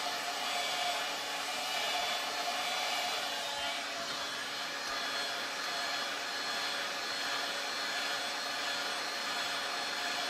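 A heat gun blows hot air to heat a kydex magazine carrier clamped in a jig. It gives a steady, loud blowing hiss that runs unbroken throughout, with no talk over it.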